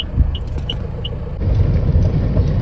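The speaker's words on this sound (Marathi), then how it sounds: "ती बघा ती गाडी आली" An Eicher truck arrives in the rain, its engine rumbling low and close, swelling louder partway through as it draws near, with a few faint high chirps above it.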